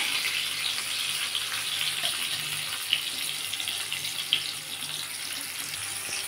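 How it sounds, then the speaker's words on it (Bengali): Tomatoes fry in a pan for a Bengali vegetarian ridge gourd and sesame dish, giving a steady, even sizzling hiss that holds for several seconds, heard up close with no talking. "টমেটো দিয়ে একটু ভালো করে একটু ভেজে নেব টমেটোটা।"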